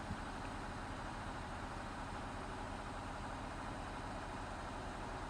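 A 240-horsepower tractor in Farming Simulator 19 drones steadily while pulling a plow uphill, a constant dense engine rumble with no change in pitch, heard alone.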